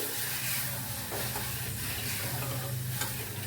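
Tamarind mixture being stirred in a pan for a Bengali rasogolla sweet dish, a steady scraping and soft sizzling texture running continuously and fairly close, with no one speaking.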